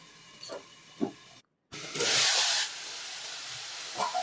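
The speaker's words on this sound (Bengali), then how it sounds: "ফুলকপিগুলো তেলেই ভেজে নিচ্ছি" Cauliflower and potato pieces fry in hot oil with a bright sizzling hiss that surges loudly midway after a brief silent gap, with softer crackles and pops around it.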